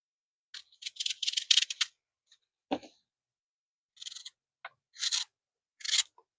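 Knife cutting the seeds out of an apple: a few short, sharp snipping and scraping bursts separated by pauses, close and fairly quiet, no voices.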